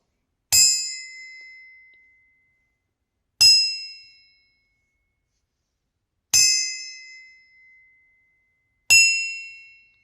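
Metal Eaton differential carrier struck four times at spaced intervals, each tap a sharp bright ring that decays slowly, clear and close with silence between.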